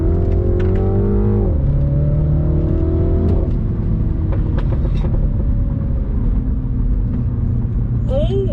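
A stock Mini Cooper S John Cooper Works with 230 horsepower accelerates hard in sport mode, engine rising through gears with a shift dip, loud and close, with faint sharp exhaust pops; a voice talks over the engine.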